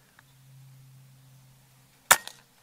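Avenge-X Classic .177 air rifle firing a pellet: one sharp, loud crack that rings briefly, following a quiet low hum.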